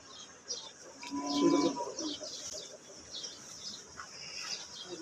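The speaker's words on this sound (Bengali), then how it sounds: "এটা জাফরাবাদী মহিষ" A Jafarabadi buffalo at a livestock market lets out one short, low moo, moderately close, while small birds chirp faintly in the background.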